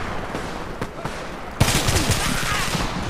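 Bursts of rapid gunfire ring out in an online team deathmatch of the shooter game Homefront, with scattered shots giving way to dense, loud sustained firing.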